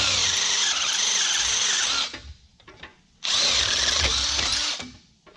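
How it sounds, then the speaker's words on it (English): A cordless drill bores hinge holes for the hatch of an H1 slant back, the bit rocked and moved to hog out material: two loud, sustained high grinding bursts of about two seconds each, separated by a quieter pause. "now you just stick the drill bit in there and rock it back and forth and move it up and down."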